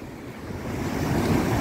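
Sea waves rolling in beside a fishing pier on the coast near Lima, a broad, steady wash of surf that builds slightly in loudness, mixed with some wind and no voices.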